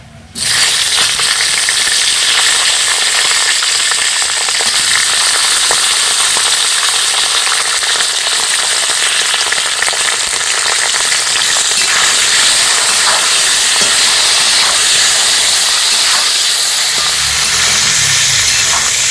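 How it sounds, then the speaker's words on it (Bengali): Capsicum lightly frying in hot oil for a chicken and winter cauliflower dish, a loud steady hissing sizzle that starts abruptly and runs unbroken, close up and with no talking. "এই তেলের মধ্যে ক্যাপসিকামটা একটু হালকা করে ভেজে নেব।"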